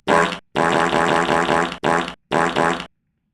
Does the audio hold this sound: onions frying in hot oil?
no